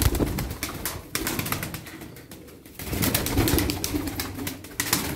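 Taklacı tumbler pigeons, including a smoky çakmaklı bird, coo in a steady low chorus close by, with rustling and wing flutters mixed in.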